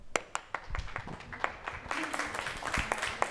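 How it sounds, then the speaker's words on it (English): An audience at the NASA Space Apps Challenge event in New York in 2017 breaks into applause: scattered sharp individual claps at first, swelling into fuller, denser clapping toward the end, moderately loud. "So everyone give her a round of applause."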